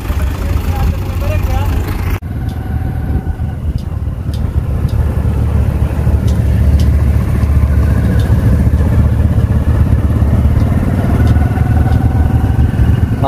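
A tractor engine runs steadily and loudly nearby during a maize harvest, with loaded trailers, a constant rumbling drone with a faint clatter, while people talk over it.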